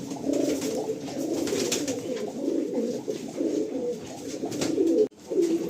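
Several pigeons in a loft coo continuously in a low, throaty, overlapping murmur, fairly close, with a brief dip near the end before the cooing resumes.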